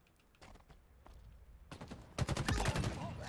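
Gunfire in a shooter video game, with scattered faint shots at first that build into loud, rapid bursts of fire near the end.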